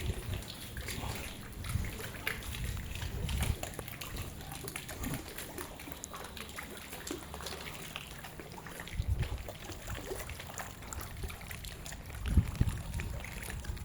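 Water runs continuously from the supply channel at a lakeside temple, a soft splashing trickle with a few louder gushes.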